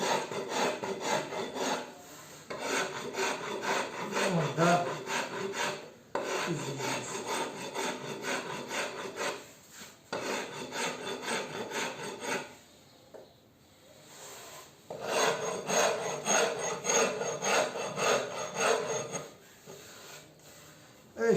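A wooden Telecaster electric guitar body is shaped with a hand rasp in long bursts of steady, coarse back-and-forth filing, loud and close, broken by short pauses.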